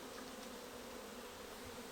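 Dense, steady buzzing of many honey bees crowding around their hive, a continuous close swarm hum with no voices.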